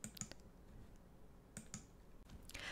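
Quick bursts of close, quiet keystrokes on a computer keyboard while working in SketchUp, a cluster of clicks at the start, another in the middle and a faster run at the end, with no voices.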